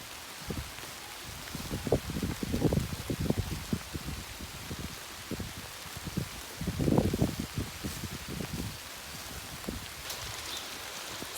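Rain falls outdoors in a garden where ducks are out, a soft patter with irregular rustling and splashing bursts close by, no talking.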